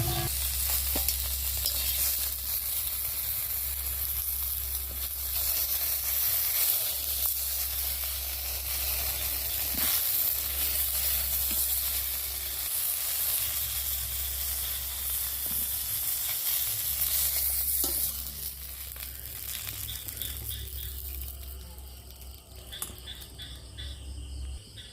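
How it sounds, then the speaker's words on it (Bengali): Fish fries in oil in a pan with a dense, steady sizzle and hiss, heard close and fairly loud. Near the end the sizzle thins to a quieter crackle, and no one speaks. "মাছ ভাজা হয়ে গেছে, এবার মাছগুলো তুলে নেবো।"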